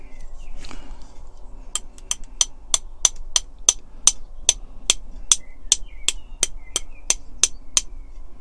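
Small pin being tapped into a Corgi toy Land Rover during restoration: about twenty sharp, light metallic taps in a steady, evenly spaced rhythm, close and clear over a quiet background.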